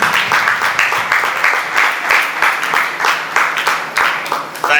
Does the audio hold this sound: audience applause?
yes